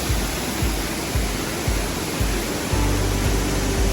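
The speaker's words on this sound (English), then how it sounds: "so we're behind the waterfall right now" Waterfall at Virgin Falls State Natural Area heard from behind the falling water: a loud, dense, unbroken roar with low rhythmic thumps, close and alone.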